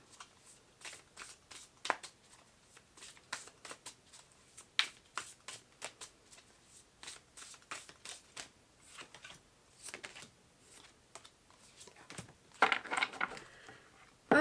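Tarot cards are shuffled and dealt out in a quiet room, with a steady run of close, crisp riffles and soft flicks and taps as cards land, growing busier near the end.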